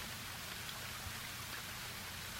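Rain falls in the video game Ame No Marginal as a steady, quiet, even hiss that runs unbroken from start to finish, with no voices over it.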